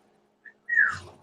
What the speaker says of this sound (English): and I get whistles.